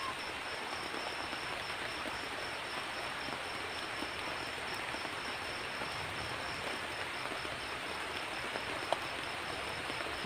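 Steady rain falls at night in a forest, a dense even hiss of drops on leaves that continues unbroken at a moderate, soft level, with a faint high insect-like tone above it.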